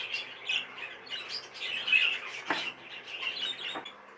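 Baby budgies in a cage, chirping and squawking in a busy, continuous chatter of close, high calls for several seconds, with no talking.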